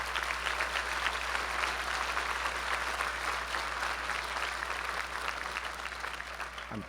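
Graduation audience applauding at a law school Class of 2019 ceremony, a dense, steady wash of clapping from a large crowd that carries on without break and eases off slightly near the end.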